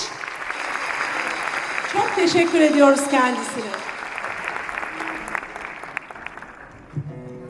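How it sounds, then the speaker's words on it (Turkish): Concert audience applauding in a hall during an award presentation, a steady wash of clapping that swells and fades while someone speaks over it through a microphone. "Ona lütfen güçlü bir alkış"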